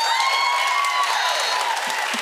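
Studio audience clapping on a daytime television game show, dense and loud continuous applause with a few whoops, steady from start to finish.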